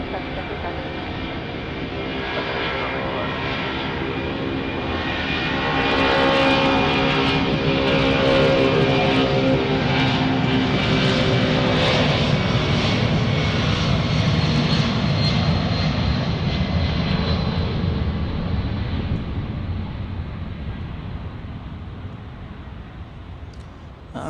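A passenger airplane takes off from a runway at Dallas Love Field during rain and thunderstorms, its engine roar swelling to a loud, steady rush that lingers for many seconds before easing off slightly at the end.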